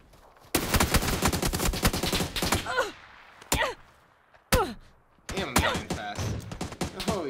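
Rapid gunfire in the battle game PUBG, long dense bursts of loud cracking shots near the mic, broken by pauses and single sharp reports, with a voice murmuring faintly under the firing.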